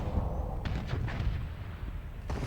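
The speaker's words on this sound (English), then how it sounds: "And there's our two forward-facing guns. Well, the pilots are shooting." Two forward-facing spaceship guns fire in the space game Starsector with the Nexerelin mod: several heavy, booming shots sit over a steady loud rumble and crackle, with sharper bursts near the start, middle and end.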